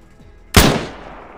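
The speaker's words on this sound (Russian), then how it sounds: "Это СВДшник был, который по тебе стрелял." A single loud SVD sniper rifle shot in ArmA 3 cracks out with a sharp attack, then a long echoing tail decays over the following second.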